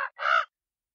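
A raven gives a short caw, then one longer harsh caw, loud and close against silence.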